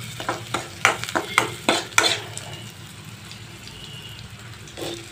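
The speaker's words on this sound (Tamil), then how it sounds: "வெங்காயம் நல்லா வதங்குது பாருங்க." Small onions (shallots) sauté in a pan for pepper chicken. Rapid scraping stirs clatter over a sizzle for the first two seconds, then a quieter steady frying hiss follows, with no talking.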